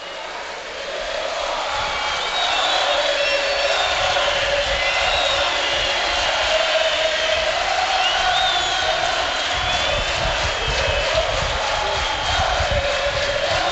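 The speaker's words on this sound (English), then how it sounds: "Milan fans cheering already." AC Milan supporters cheering and roaring in the stadium in the closing minutes of the 2003 UEFA Super Cup Final against FC Porto, a dense sustained crowd swell that rises after the first second and holds loud throughout.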